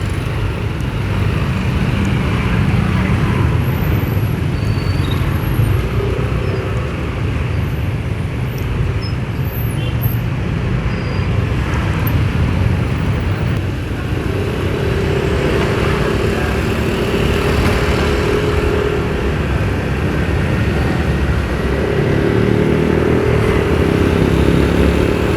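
Loud, continuous rumble of a night-time traffic jam with cars and motorcycles crowding the road around a riding All New Nmax 155 scooter, steady engine drone and wind throughout, with a few faint tonal hums and squeals.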